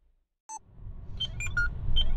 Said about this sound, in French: la deuxième alarme s'est déclenchée à 157 km